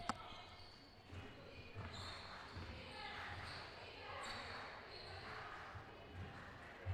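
A basketball bounces loose on a hardwood court during a women's college game, with faint, scattered thumps under steady crowd murmur and squeaking sneakers in a large gym.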